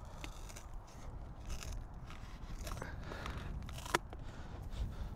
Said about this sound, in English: We're going to cut off another one now.